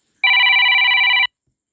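A telephone rings with a single sustained electronic trill lasting about a second, loud and close, then stops, leaving silence.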